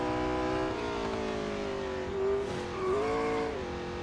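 A McLaren 600LT in the racing game Real Racing 3 swings into oversteer, its engine droning steadily as the tires squeal and skid, pitch sliding down then rising again as the back end is caught.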